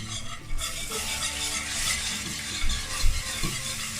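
A spoon stirs milk into a béchamel sauce in a pan, making a continuous soft scraping and swishing with faint sizzling and a few light knocks against the pan.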